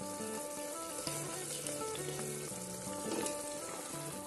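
Carrots and potatoes added to roasted spices in a pan for vegetable pulao produce a faint, even frying sizzle that continues steadily, with soft background music throughout.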